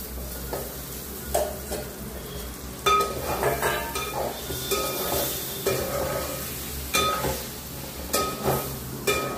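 Boiled taro pieces tipped into a frying pan and stirred, with a steady oily sizzle under repeated scraping and clinking strokes of a utensil against the pan, close and moderately loud.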